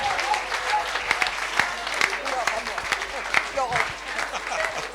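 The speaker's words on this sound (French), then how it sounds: "Des représentants de la CGT, on peut les applaudir s'il vous plaît." Audience applause at a French public-services awards ceremony, irregular clapping running throughout, with voices talking and calling out over it.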